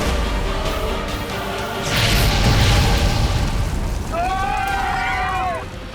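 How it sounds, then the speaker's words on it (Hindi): A TV-drama explosion aboard a burning train, a deep rumbling boom swelling midway through a roaring fire ambience, followed by a rising whooshing sweep, loud and close. "सिर्फ सीट्स और लगेज के जलने के कारण ये इतना जोर का धमाका कैसे हो रहा?"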